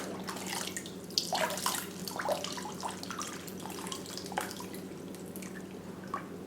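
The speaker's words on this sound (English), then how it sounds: "having a cup to pour it into here greatly aids this process" Water trickles and splashes in uneven bursts as it is poured from a cup into a filter bag, a close, wet pouring sound over a steady low hum, with no voices.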